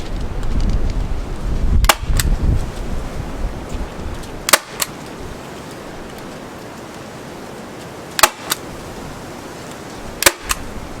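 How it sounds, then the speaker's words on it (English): Snakeskin being stapled down onto a board with a staple gun, four or five sharp, isolated clacks spaced a couple of seconds apart over quiet handling noise. "I'm going to staple this one down over here first."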